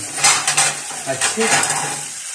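Chicken karahi being stirred and fried in a wok, with a metal spoon scraping and clattering against the pan over a steady sizzle and a few sharp clinks close by.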